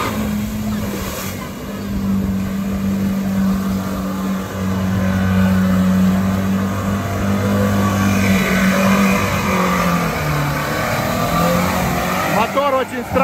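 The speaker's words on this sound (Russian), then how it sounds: "Мотор очень странный звук." A UAZ off-road car in an off-road race runs with its engine making a strange metallic noise, a loud continuous drone that rises and shifts in pitch as it revs, heard up close with a voice talking over it.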